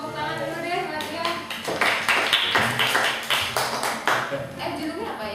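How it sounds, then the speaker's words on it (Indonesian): Audience clapping at a teens' writing class, a few seconds of lively, scattered applause from a roomful of people, close and fairly loud, with voices talking over it. "Bagus ya, tepuk tangan dulu deh buat dia."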